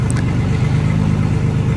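Ford BA Falcon engine runs with no exhaust fitted, a loud, raw, pulsing low rumble close up, steady throughout the short stretch with no voices over it.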